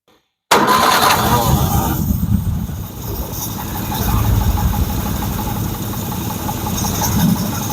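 A 1961 Nash AMC Metropolitan barn find engine cranks and catches after a brief silence, then runs loud and close with a rough, slightly uneven idle that dips and swells.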